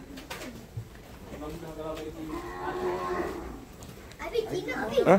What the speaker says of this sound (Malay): Banyak lembu ni.